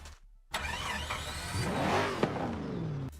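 A Minecraft Bedrock modded car engine cranks and catches, then revs up with a rising roar before settling, ending in a small pop; close and fairly loud.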